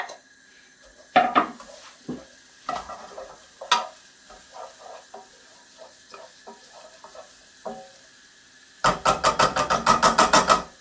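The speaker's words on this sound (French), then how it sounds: "on fait suer les oignons dans un petit peu de matière grasse" Onions sweating in a little fat in a pan, stirred with a wooden spatula: scattered scraping knocks and short bursts of stirring over a soft background, ending in a loud rapid run of scrapes.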